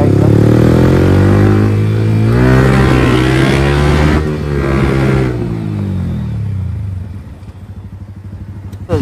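A Yamaha R15 sports motorcycle with a loud exhaust revs loudly and close by, its exhaust note rising and falling in several long pulls before easing off near the end.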